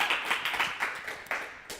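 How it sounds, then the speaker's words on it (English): A small online summit audience claps for a speaker named Ben, giving a short burst of light, uneven hand claps that swell and fade in quick pulses, fairly close and alone without talk. "let's have one more round of applause for Ben"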